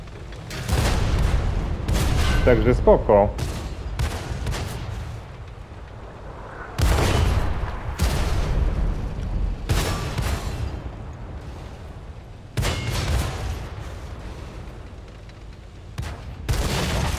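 Object 703 Version II double-barrel tank cannon firing in World of Tanks on PS5, heavy booming shots arriving in spaced pairs and singles with rumbling battle noise between, a voice briefly speaking.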